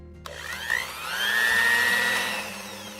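A mixer grinder blends coconut appam batter with sugar in its jar, the motor whining up and running steadily at close range without any talk.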